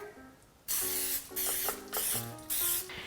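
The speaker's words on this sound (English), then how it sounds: "We're going to spray it with some non-stick cooking spray." Non-stick cooking spray hisses from a can in several short bursts onto a pan, close and sharp, with brief pauses between sprays.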